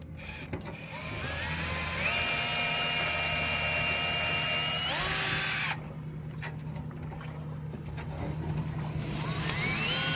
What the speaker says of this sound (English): I like to drill this hole first because it's closest to the eye bolt.